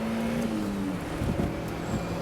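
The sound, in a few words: JDM convertible sports car engine downshifting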